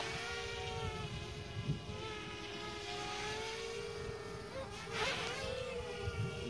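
A Blade 200qx quadcopter drone hovers, climbs and flips, giving a steady, close, high-pitched buzzing whine that swells and shifts in pitch around the flip near the end.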